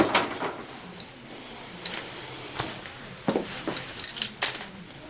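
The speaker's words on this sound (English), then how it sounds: "we're going to use a 13 and a 14 millimeter wrench for these" 13 and 14 millimeter wrenches handled while assembling a TaoTao ATM50A scooter moped, giving scattered close metallic clinks and jangles over a quiet room.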